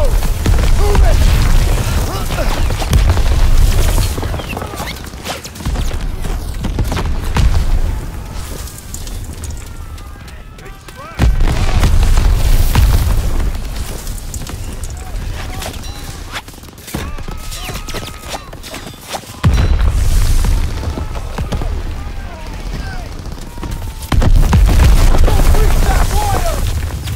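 Artillery fire and explosions rumble through a Call of Duty WW2 battle in Normandy, with heavy booms and dense volleys of gunfire repeating in waves, loud and close, with shouted voices in the mix.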